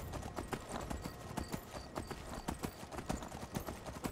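Horse hooves clip-clopping steadily in Skyrim, a brisk repeating rhythm of close, crisp strikes on the ground, with a faint whinny and some soft background game ambience.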